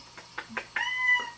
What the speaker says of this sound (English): The kitties are so noisy. See, they actually meow.